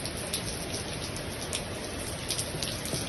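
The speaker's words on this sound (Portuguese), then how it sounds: "Aí a chuva veio." Rain falls in a steady, even hiss with dense pattering drops on surfaces, moderately close and unbroken, with no voices present.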